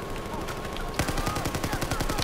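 Rapid bursts of automatic gunfire in the video game Battlefield 4 during a team deathmatch, using a reflex sight, starting abruptly after a second of quieter game ambience and continuing as a loud, steady stream of closely spaced shots.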